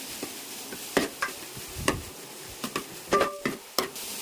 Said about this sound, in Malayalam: അത് നല്ലതുപോലെ ഫ്രൈ ആയി വരുമ്പോൾ അതിലേക്ക് സവാള ഇട്ട് കൊടുക്കണം